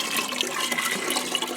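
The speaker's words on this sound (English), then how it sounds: "Trying to pour water one-handed." Water being poured from a container held in one hand outdoors during farm chores, a close, continuous splashing gush throughout with no talking.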